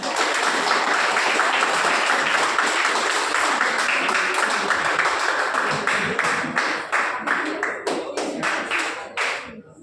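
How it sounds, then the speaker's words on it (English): A large workshop audience breaks into sustained, loud applause welcoming a guest speaker, dense clapping that holds steady for most of the stretch before thinning into scattered claps and trailing off near the end. "let's welcome with a huge round of applause Dr."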